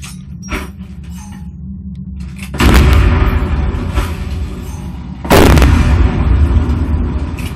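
Two heavy grenade explosions in the video game Titanfall, on the Xbox One beta tutorial, each a sudden loud boom with a long rumbling tail, separated by about three seconds over a low background drone.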